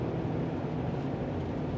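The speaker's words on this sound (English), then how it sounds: "This my Delica is a little bit loud. It's a diesel." Diesel engine of a Mitsubishi Delica running, heard from inside the cabin while sitting over the engine: a steady, loud low rumble with continuous drone and no pauses.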